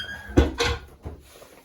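A small metal wood-stove door swings shut with a couple of dull thuds and a light rattle, close and fairly loud.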